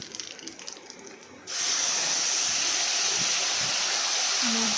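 Spice paste poured into hot fish-frying oil tempered with nigella seeds, bursting into a loud, steady sizzling hiss after a brief quieter start and holding strong to the end.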